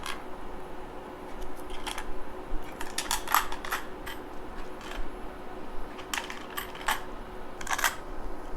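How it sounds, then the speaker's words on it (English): Small metal washers clink and tap one after another as they are set onto the terminal studs of a DIY battery kit, a string of light, close metallic clicks with short pauses between them. "we're going to place the washers on top of the studs"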